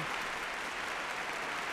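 Faint, steady applause like a distant crowd clapping in a palace hall, an even hiss of many hands without pauses or voices.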